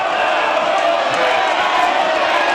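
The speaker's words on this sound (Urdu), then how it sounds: "ایوان میں نواز شریف کی آمد پر شیر آیا کے نعرے لگائے گئے۔" Crowd in Pakistan's National Assembly chanting 'Sher aaya' slogans at Nawaz Sharif's arrival, a steady loud roar of many voices filling the hall without a break.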